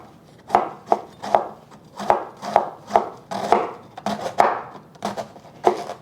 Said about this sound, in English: First, I'm going to take out this part of the cabbage. And then just shred the rest.